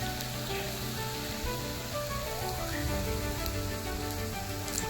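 Appe roasting in a pan give off a soft, continuous sizzle and crackle, faint and steady throughout with no voices.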